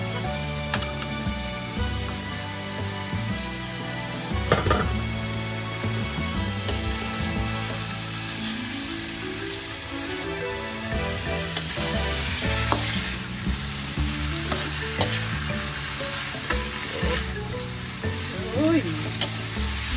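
Bitter melon frying with pork in a pan, a continuous loud sizzle with frequent clinks and scrapes of stirring utensils, while someone talks intermittently over the cooking.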